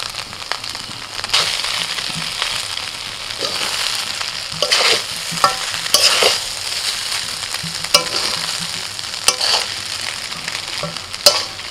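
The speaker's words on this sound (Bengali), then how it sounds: "ভালো করে মিশিয়ে নিয়েছি সবকিছু।" Chicken fry biryani being stirred and tossed in a hot pan, a steady sizzle broken by repeated scraping and clattering strokes of the ladle at an uneven pace, close and fairly loud.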